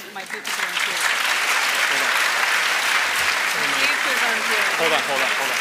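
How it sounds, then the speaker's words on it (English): Audience applause fills a graduation ceremony for MBA and EMBA graduates: dense, steady clapping from a large crowd that holds at full strength without a break. "Have your clapping hands ready."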